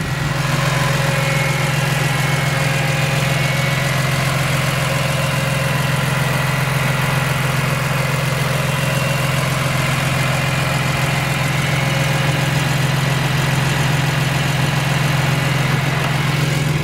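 A 2001 BMW M3 convertible with a six-speed manual runs at a steady idle, a loud, close, constant low drone that holds unchanged throughout with no other sounds.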